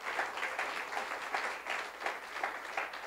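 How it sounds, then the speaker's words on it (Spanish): A church congregation applauds steadily at a moderate distance, a dense patter of many hands clapping continuously with no voices over it. "Denle un aplauso fuerte al Señor."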